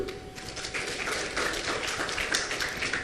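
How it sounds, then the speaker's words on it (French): Audience applause at a ceremony recognising youth organisations in Haiti: dense, steady clapping from a crowd that holds at an even level for the whole stretch, moderately near, with no voice over it. "sous vos applaudissements s'il vous plaît."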